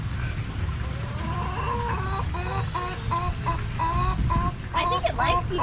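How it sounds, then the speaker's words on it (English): Chickens clucking in rapid, repeated bursts at a nature park and shell factory, fairly close and loud, with a rooster-like call near the end, over steady background chatter from people. "Look, there's a chicken behind you."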